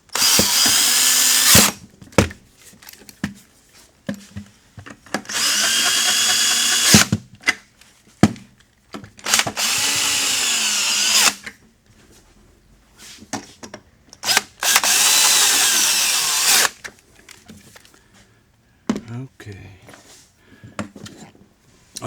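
A power drill runs in repeated bursts of a few seconds each, tightening screws into a five-legged standard table base, with clicks and handling clatter between the runs, close and loud.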